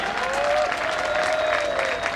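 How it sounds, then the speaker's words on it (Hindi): Applause from the crowd at the final day of a kho kho league tournament in Rajasthan, a steady wash of clapping lasting the whole stretch with a faint tonal whine running underneath. "तो इनके लिए एक बार जोरदार ताली होनी चाहिए"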